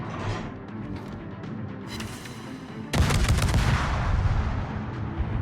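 Gunfire in a video game: dense, booming bursts of shots with low rumbling impacts, which grow heavier and louder partway through and continue as sustained fire.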